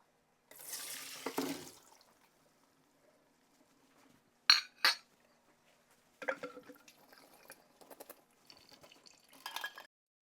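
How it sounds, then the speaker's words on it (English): Boiled potatoes drained at a kitchen sink: splashing water pouring off, then clinks and clatters of a pot and colander in a few short, fairly quiet bursts separated by near silence. "let's go to the sink and get these potatoes drained"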